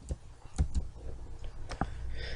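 Keys on a computer keyboard click a handful of times in quick, uneven succession, close and moderately soft, as a command is typed during an R programming session.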